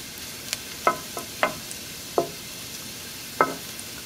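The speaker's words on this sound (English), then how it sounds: "We just want to infuse that flavor in the oil, get that nice aroma from the garlics." Garlic frying in oil in a pan, heard as a faint steady sizzle with several sharp, distinct clicks of a utensil stirring against the pan, no speech.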